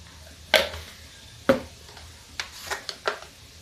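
Tomatoes and turmeric frying in a pan for vegetable pulao, with a few sharp scraping stirs and clinks over a low, steady sizzle, close and fairly quiet.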